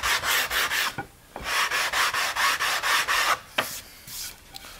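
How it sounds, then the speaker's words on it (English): A sanding block wrapped in sandpaper rubs back and forth over wood to remove saw blade marks, a series of quick, even rasping strokes in two bursts with a short pause between, close and loud. "just a good block with a piece of sandpaper on it, and sand like this to take off your saw blade marks"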